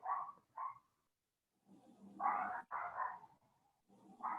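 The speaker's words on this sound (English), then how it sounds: "I'm sorry for my dogs barking." A dog barks several times in short bursts, a pair, then a pause, then a few more, somewhat muffled as if from another room.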